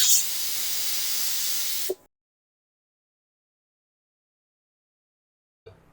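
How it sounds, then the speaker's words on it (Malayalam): A pressure cooker on the stove lets off a loud, even hiss of escaping steam for about two seconds before cutting off sharply, followed by silence and a brief faint burst near the end. "ഒരു വിസിൽ വരട്ടെ."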